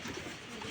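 A pigeon coos softly and briefly, a low murmuring call heard close by against faint background noise.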